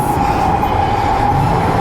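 Train leaving a station in Japan, on a rail route from Tokyo toward Myoko Kogen, heard as a loud steady rumble of wheels on rails with a sustained mechanical whine.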